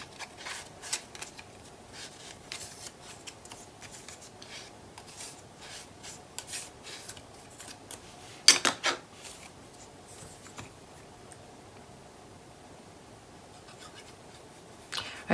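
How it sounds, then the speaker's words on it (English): A half-inch paper strip is trimmed down to fit a craft project, with soft close rubbing and scraping of paper and a brief sharper burst of cutting partway through. The sounds are quiet and intermittent, with no talking. "I'll need to trim this piece down just a little bit,"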